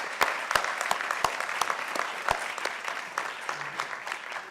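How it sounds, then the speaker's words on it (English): Audience applause at a college elevator pitch competition, a steady wash of many hands clapping from a hall crowd with a few sharper claps standing out, continuous and moderately loud throughout. "Give yourselves a big round of applause."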